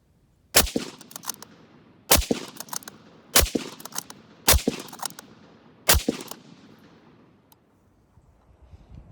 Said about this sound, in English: As you can see, you can run a bolt gun pretty quick.